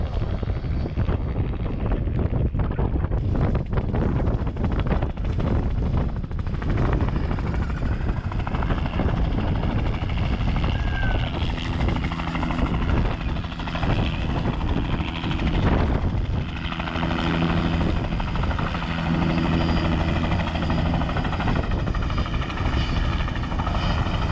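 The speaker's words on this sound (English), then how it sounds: "what happens is we call a helicopter" A helicopter drones steadily overhead in rural Alaska for the whole stretch, its rotor thrum loud and continuous, with wind buffeting the microphone.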